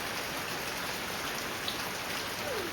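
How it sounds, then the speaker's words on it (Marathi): Heavy monsoon rain pours down in Konkan as a dense, constant roaring hiss that stays loud and unbroken, with no voices. "कालपासून जो काही पाऊस सुरू झाला आहे तो अजून पर्यंत थांबला नाही आहे."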